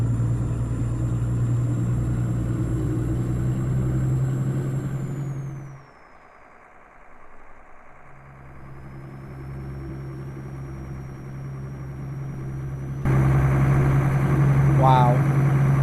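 A heavy truck engine in Euro Truck Simulator, a steady loud low drone that drops away briefly mid-clip, then returns and swells louder near the end, with someone talking over it.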